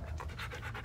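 A Siberian Husky pants quickly and close up, in rapid rhythmic breaths over a brief moment.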